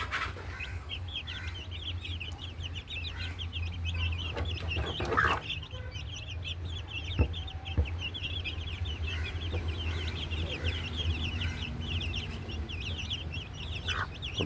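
Chickens and chicks cluck and cheep steadily at a moderate distance, with continuous high peeping running throughout over a low background hum and no talk.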